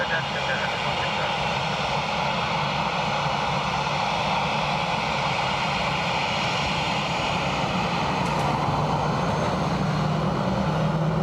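A fixed-wing airliner landing on runway 28 left at Dublin Airport gives a loud, steady engine roar that fills the whole stretch, with radio talk over it.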